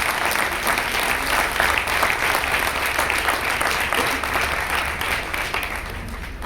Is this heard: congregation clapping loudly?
yes